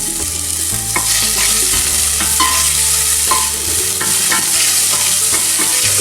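Finely chopped onions frying in a little oil, a loud continuous sizzle close by, with scraping and clinking as the pan is stirred and a low hum underneath.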